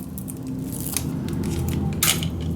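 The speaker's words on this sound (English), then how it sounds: "And then just apply some tape. Peel it off" A strip of tape peels off its backing while making a scrapbook mini album, giving two short, crisp tearing rasps close up in a quiet room.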